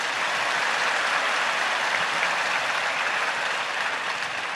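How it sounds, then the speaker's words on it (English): Audience at a Navaratri celebration in Sathya Sai Grama breaking into sustained, even applause, a thick steady wash of many hands clapping with no voices over it. "Let us clap now."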